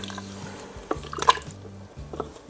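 Turkey stock poured into a pot of simmering mushroom soup base, a close splashing trickle with brief drips, moderately loud over a low kitchen hum.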